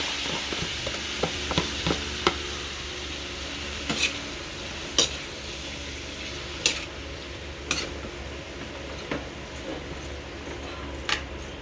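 Chopped chayote sautéing in a pan, with a steady sizzle and repeated light clicks from a spoon or spatula tapping the pan as the pieces are stirred.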